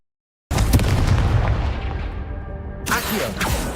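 A Confringo blasting spell bursting in the Hogwarts video game: a sudden loud explosive boom that rolls on as a rumbling roar, followed by a second crackling burst, with no voices.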